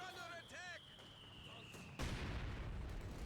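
An artillery counter barrage in a competitive video game match, a quiet scene that suddenly gives way to a broad, sustained rumble of distant shelling.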